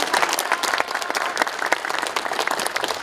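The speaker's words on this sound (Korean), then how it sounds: "여러분 큰 박수를 부탁드리겠습니다." A concert audience at a commemorative ceremony gives a big round of applause, loud and close, with many hands clapping densely and continuously from start to finish.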